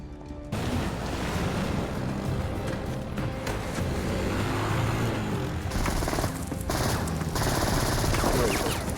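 Gunfire in a Prison Break TV episode, a dense burst of shots and clatter over a noisy action scene, loud and continuous after a sudden start.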